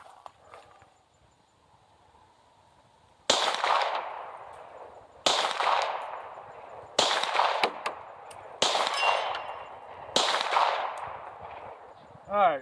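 A SAR USA SAR9 pistol fires at a target 75 yards away: five sharp, loud shots with irregular gaps of one to two seconds, each ringing out briefly after a quiet start.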